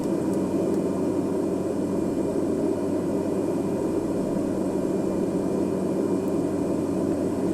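Steady aircraft engine drone in flight over mountains, a continuous loud broadband hum heard from inside the plane without change or interruption.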